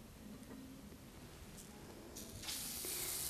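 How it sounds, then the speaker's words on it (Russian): Buckwheat-wheat pancake batter hits a hot frying pan greased with vegetable oil, giving a steady hiss that swells into a louder, bright sizzle near the end, with no talking. "Наливаем и распределяем по всей сковороде нашей. Мы предварительно раскалили сковороду и смазали растительным маслом."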